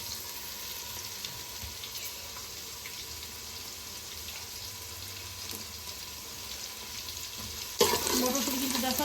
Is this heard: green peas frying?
yes